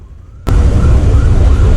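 Ambulance moving through city traffic in Karnataka, heard as a sudden loud roar that starts after a brief faint tone and holds steady and close until the end.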